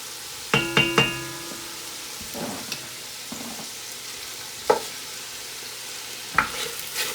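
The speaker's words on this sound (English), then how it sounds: "Give it another stir." Food browning in a pot on high heat sizzles steadily as a utensil stirs it, with a few sharp clanks against the pot and softer scraping in between.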